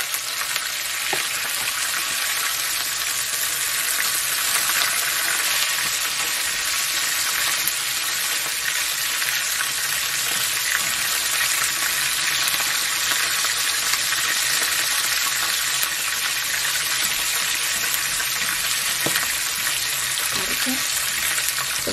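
Flour-battered crab pieces deep-fry in oil at a lowish temperature, a continuous dense, even crackling hiss with occasional faint pops, steady throughout at close range.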